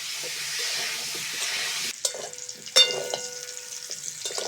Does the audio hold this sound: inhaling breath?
no